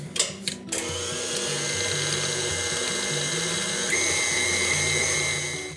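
A stand mixer fitted with a paddle attachment churns marshmallow fluff and peanut butter together for a no-bake fluffernutter pie, a steady loud motor whir with a rhythmic mechanical clatter, rising slightly in pitch partway through.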